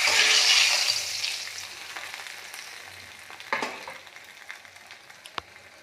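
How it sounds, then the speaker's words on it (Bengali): Eggplant heads fry in hot oil, a loud, bright sizzle that flares at the start and settles into a softer crackle, with a few sharp pops and stirring knocks near the end and no voices. "তেল আমার গরম হয়ে গেছে, মাথাগুলো ভেজে নেব"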